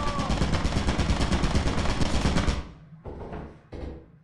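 Rapid automatic turret gunfire in a video game rattles loud and dense for over two seconds, then breaks into two shorter, quieter bursts.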